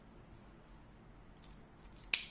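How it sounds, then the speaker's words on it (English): Scissors snip through crochet yarn, a single sharp cut near the end after a quiet stretch, close and clear. "and I will cut the yarn"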